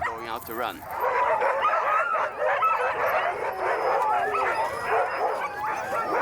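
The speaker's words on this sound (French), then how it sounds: "Les chiens le comprennent immédiatement et se mettent à aboyer encore plus fort." A crowd of sled dogs bark, yip and whine excitedly all at once before a run, a dense continuous chorus close by.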